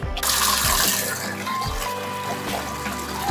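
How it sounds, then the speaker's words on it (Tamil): Rice being washed under running water, a steady close splashing and rushing flow that continues throughout at a fairly loud level. "நம்ம அரிசி நல்லா கழுவிட்டு ஒரு 5-6 தடவை கழுவிட்டு"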